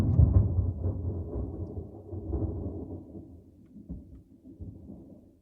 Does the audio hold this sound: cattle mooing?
no